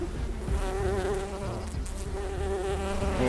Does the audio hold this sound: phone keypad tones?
no